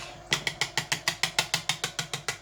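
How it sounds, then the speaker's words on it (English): A whisk beats homemade mayonnaise for coleslaw in a bowl, giving about thirteen quick, even, close metallic clicks in a steady rhythm with no talking. "we're going to give it a little whisk"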